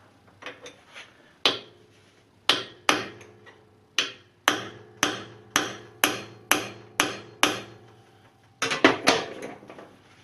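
Repeated hammer blows on a part of a Logan Model 1925 lathe headstock to free it, about a dozen loud, sharp metallic strikes in an irregular rhythm, some in quick pairs, with a rapid cluster near the end; no talking.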